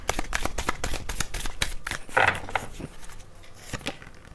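Tarot cards shuffled and drawn by hand, a steady run of quick papery riffles and soft flicks with a brighter snap midway, close and fairly quiet, with no talk over it.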